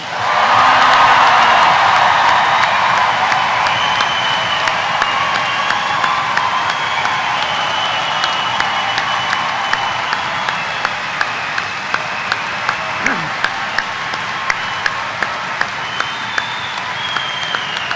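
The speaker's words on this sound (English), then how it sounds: "Come on now, big Dundee cheer" A graduating class of 2024 at a University of Dundee summer ceremony erupts in loud, sustained cheering and applause, with whoops over dense clapping that gradually settles into steady, fading claps.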